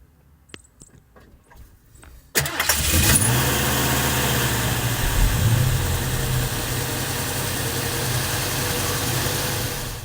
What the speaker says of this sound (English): we'll have a listen to the idle and exhaust